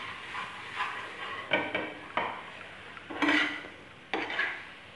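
A spoon scrapes and clinks against a pan while spices are stirred into tomato gravy for sev tamatar sabji, a series of close, uneven metallic strokes and soft wet scrapes with no talking.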